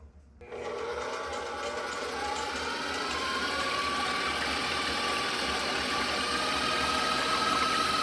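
Electric mixer running at high speed, whipping cream into butter, a loud continuous whirring drone that starts abruptly and holds steady throughout.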